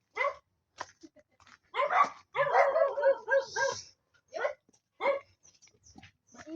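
A dog barks in repeated sharp bursts with short gaps between them, close and fairly loud, outdoors along a muddy rural path after rain.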